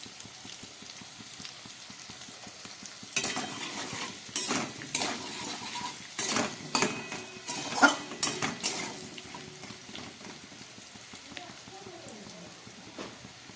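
Potatoes frying in a pan as turmeric goes in, with a quiet sizzle followed by a busy run of clattering spoon-against-pan stirring strokes in the middle, then easing back to gentle frying.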